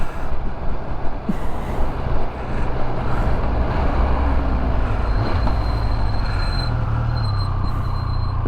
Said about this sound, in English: We've got a squealy front brake.